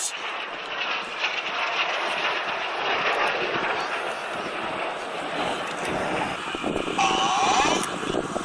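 Seven jet aircraft flying in formation at the New York Air Show at Stewart International Airport, a loud steady engine roar filling the air throughout, with faint crowd sounds beneath.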